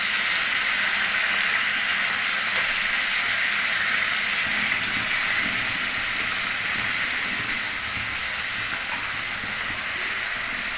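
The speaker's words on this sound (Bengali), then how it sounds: "ভালোভাবে মশলাটাকে কষিয়ে নেব।" Ginger paste, garlic paste and green chilli sauté in a pan for a potato and pointed gourd curry, giving a constant, loud, close sizzling hiss without any voices.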